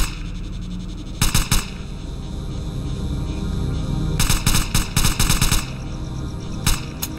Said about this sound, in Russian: Я же стреляю по вам.